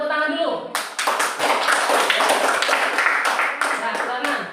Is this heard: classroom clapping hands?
yes